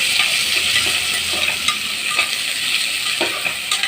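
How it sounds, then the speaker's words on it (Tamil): Chopped onions sautéing in oil in a pan until golden for a basmati chicken biryani: a constant close sizzle broken by occasional scraping clicks of stirring, and no talk. "வெங்காயத்தை கட் பண்ணி வச்சுட்டு போடுறேன். இது நல்லா வந்து பொன்னிறமாக வதக்கிக்கிறோம்."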